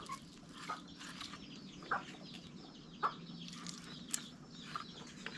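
Chicks in a feeding spot peep and cluck softly with a few sharp chirps while feed is scattered for them, faint and close against a quiet background.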